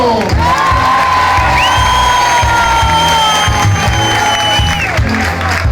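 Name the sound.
concert audience applauding and cheering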